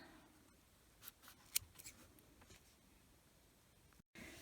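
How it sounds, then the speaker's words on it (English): Scissors snip the loose yarn ends of a small crocheted bug toy, a few quiet, brief cuts with soft rustling in a near-silent room. "And cut your ends."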